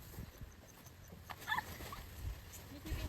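A puppy whimpers faintly in short soft whines at a campsite, with quiet background noise and brief rustles.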